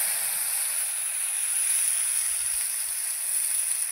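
Green chillies and mustard paste sizzle in hot oil, a steady close hiss of frying that holds constant throughout, with a few faint low knocks underneath.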